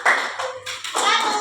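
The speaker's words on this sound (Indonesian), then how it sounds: "Tepuk tangan buat kelompok" A classroom of pupils claps for a student group after a question-and-answer exchange, with a burst of dense, lively applause that briefly dips and then swells again, loud and close.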